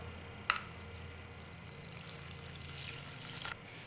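Water, about 250 ml, is poured from a cup into flour for homemade sourdough bread, a soft continuous trickle with a couple of light clinks near the start and end.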